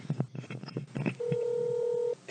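A telephone dials a number for a prank call: a quick run of short keypad tones ends in one long steady tone, with faint background murmur at the start.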